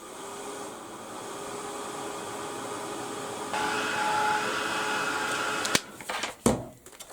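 Heat tool blowing steadily over embossing powder on a silhouette card, a continuous airy hum that grows louder partway through, then switches off with a few clicks and knocks near the end.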